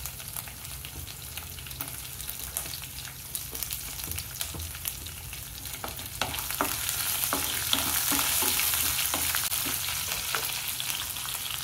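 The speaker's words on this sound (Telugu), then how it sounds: "ఈ తిరగమాతలో పచ్చిమిర్చి, అల్లం ముక్కలు," Green chillies and ginger pieces fry in hot tempering oil for semiya upma, a steady close sizzle with scattered pops and occasional stirring scrapes, growing louder and hissier toward the end, with no talking.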